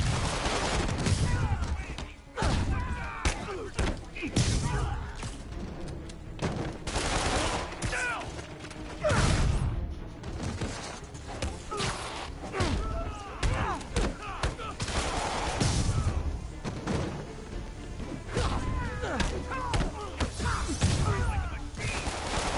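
Enemy gunfire in the Spider-Man video game: dense, repeated bursts of shots and impacts across the whole stretch, loud and busy, with speech mixed in at times.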